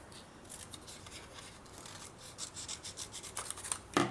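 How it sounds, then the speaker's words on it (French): Scissors snip a small scrap of paper during scrapbooking work on a shabby-style surprise box, a close run of quick dry rasping cuts with a sharper snap near the end. "je vais me couper une petite chute ici"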